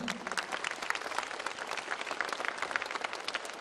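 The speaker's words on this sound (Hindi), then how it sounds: "आइए खड़े होके करतालियों के साथ उनको अलविदा कहें।" Audience applause at an official event in honour of a visiting Union minister, a steady patter of many hands clapping at moderate distance with a faint murmur of voices beneath.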